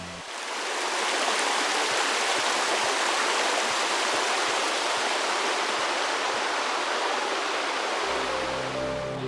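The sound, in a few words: water flowing down a creek spillway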